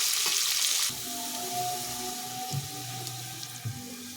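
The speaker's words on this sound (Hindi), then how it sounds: "आलू का कलर चेंज हो जाएगा तब तक हम इसे फ्राई करते रहेंगे।" Potato pieces frying in a pan while cooking khichdi, giving a steady close sizzle with faint clinks, louder hissy burst at the start then settling into a continuous low crackle.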